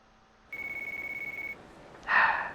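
A phone rings in the video game Yakuza 4 with a single steady electronic tone lasting about a second, followed by a short, louder burst of a game sound effect.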